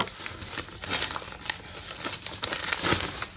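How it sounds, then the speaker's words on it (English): A package being cut open and unwrapped, with close, continuous crinkling and rustling of wrapping material broken by sharper tearing bursts. "I now have to cut that package open"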